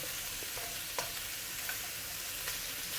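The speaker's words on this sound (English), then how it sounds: "I've been frying this for about a minute." Chili and Sichuan peppercorns frying in a pan, a steady close sizzle with occasional scraping stirs and small pops, no talking.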